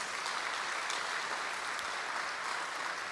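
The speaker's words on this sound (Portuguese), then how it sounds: "aplauda o Senhor pela fé para essa surpresa" A congregation applauds during a church celebration service, a continuous even patter of many hands that holds steady throughout at moderate volume.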